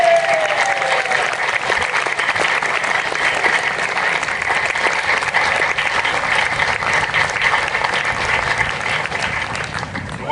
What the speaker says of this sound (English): I'm gonna allow one separate applause for the reason this band can be together